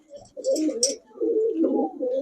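An old-breed pigeon coos close by in two long throaty phrases, with a brief flutter-like rustle between them.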